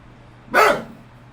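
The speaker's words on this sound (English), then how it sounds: "she's barking at you" A dog gives one short, sharp bark, close and loud, against an otherwise quiet room.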